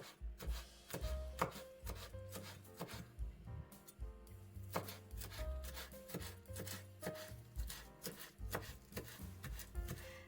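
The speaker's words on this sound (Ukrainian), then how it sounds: "нарізаємо швиденько зелень улюблену. У мене це петрушка сьогодні." A knife chops fresh parsley on a cutting board in quick, steady strokes, close and moderately loud, with brief pauses between bursts and no talking.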